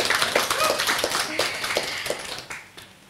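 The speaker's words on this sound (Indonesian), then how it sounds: "Boleh tepuk tangan terlebih dahulu" Audience applause at an Islamic study gathering as the best questioner is announced: scattered hand claps that thin out and fade toward the end, with no talk over them.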